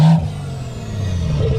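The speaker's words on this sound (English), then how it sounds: "We got an open dump exhaust right here." BMW X5M with an open dump exhaust and turbo, giving a close, loud rev that sharply drops off, then a rough idle that swells back up.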